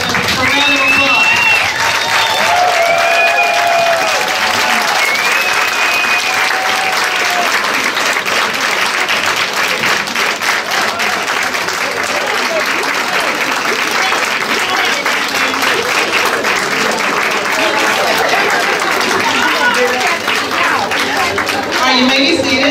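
A standing audience at a Women's History Month event gives a long, loud round of applause for women aged 96 to 100, steady clapping with some cheers and chatter throughout.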